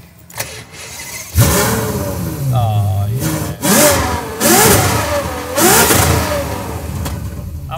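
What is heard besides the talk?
Ferrari engine starting and revving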